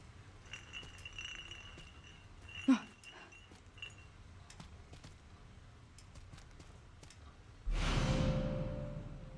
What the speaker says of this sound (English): An empty glass bottle with a faint medicinal smell.